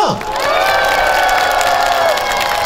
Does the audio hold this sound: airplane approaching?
no